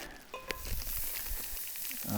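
Faint, steady crackling sizzle of butter in a hot pan at a desert campsite, with a few soft clinks and rustles.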